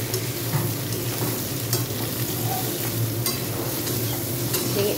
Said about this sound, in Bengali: টমেটো একটু নরম হয়ে এলে এবার দিয়ে দেবো সোয়াবিন।